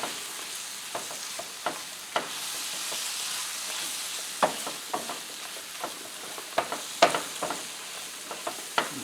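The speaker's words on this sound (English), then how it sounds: "now I'll start mixing this up" A spoon scrapes and stirs a thick sausage gravy mixture in a pan, with repeated close clinks and scrapes in an uneven rhythm over a soft, steady sizzle.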